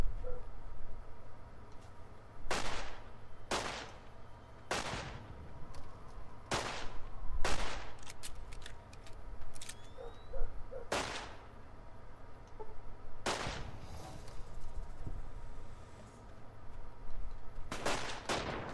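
Gunfire in Fallout New Vegas, a series of sharp separate shots spaced irregularly a second or two apart over a quieter background, loud and close with no talking.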